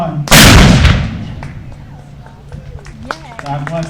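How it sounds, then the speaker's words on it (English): Half a pound of powder detonates outdoors near the beach at the Grand Hotel in Point Clear, Alabama, one loud booming blast whose rumble trails off over a few seconds, followed by faint background voices. "A 1/2 pound of powder will make quite a bit of noise."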